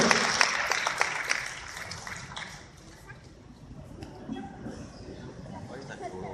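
Audience at a testimonial event in Pekanbaru claps for Bu Ratna Wati, a policewoman, with steady applause at moderate distance that fades into room murmur and a voice.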